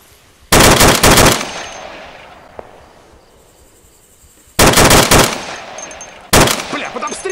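Machine gun fire in the Arma 2 military game comes in three loud, close, rapid bursts separated by quieter gaps, the second and third bursts arriving in quick succession near the end.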